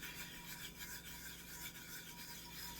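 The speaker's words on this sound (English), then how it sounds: "I'm actually just going to rub the bottom." The bottom of a Converse tumbler is rubbed to smooth it, giving a soft, continuous, faint rasping scrub close by with no pauses.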